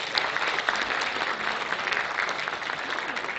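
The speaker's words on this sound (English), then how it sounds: "So huge round of applause for all of you right now." A room full of people claps enthusiastically, dense and lively applause holding steady for a few seconds with no speech over it.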